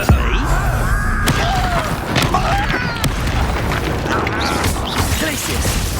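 A Confringo fire spell explodes in the Hogwarts Legacy video game, a loud booming blast with crashing debris over dense, sustained game noise, with a voice briefly heard.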